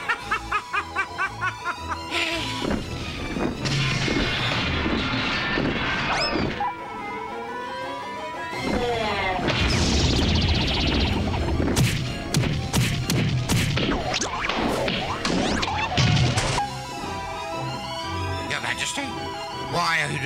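A cartoon rock robot is smashed apart in a series of crashes and thuds over busy music, with cartoon voices talking and snickering throughout.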